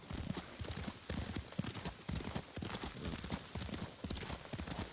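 Horse hooves clip-clop in a quick, steady gallop rhythm in Ghost of Tsushima, close and continuous, over a dense rushing background.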